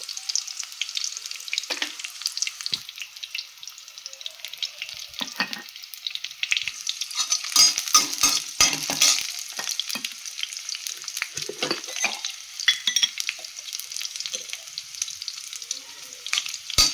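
Onion sizzles steadily in hot oil with whole cloves, black pepper and cinnamon, with repeated scraping stirs of a spoon against the pan, close and continuous.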